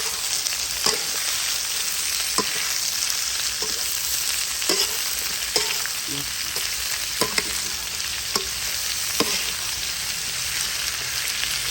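Pumpkin stir-fried with egg in a pan, a dense steady sizzle broken by sharp spatula scrapes and taps roughly every second, close and fairly loud, nobody speaking.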